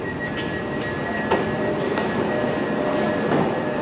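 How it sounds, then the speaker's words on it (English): A busy passenger train bound for London Victoria rolls steadily along, its continuous rumble and faint clickety-clack of wheels heard from inside a carriage, with occasional squeals and no talk. "this train's moving at last, but it's really busy"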